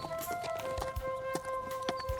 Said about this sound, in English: He borrows a horse and rides up to find Ollie.